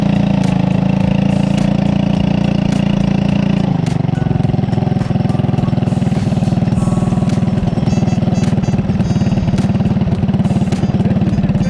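A race car engine at a kart-style arrive-and-drive event idles loudly and roughly up close, its low rumble shifting in pitch partway through with sharp ticks over the steady drone.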